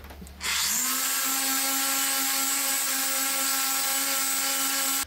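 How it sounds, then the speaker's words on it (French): A power sander whirs up after a brief low rumble, then holds a steady, loud, high-pitched drone sanding a wooden workbench stand, with no talking. "on va pouvoir passer un petit coup à la ponceuse pour finir ça nickel"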